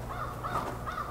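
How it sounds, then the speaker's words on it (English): Several crows caw over a steady low engine rumble outdoors in cold air, the harsh calls coming in three separate bursts from some distance. "Even the crows over there laughing at you."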